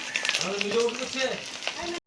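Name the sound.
duck eggs frying in oil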